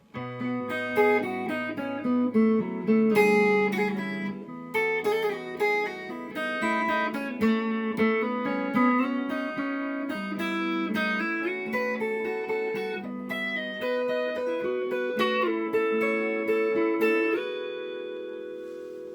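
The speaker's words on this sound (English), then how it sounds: "The solo sounds like this." An electric guitar plays a melodic solo over suspended and open chords, the notes flowing continuously at moderate volume with no talking.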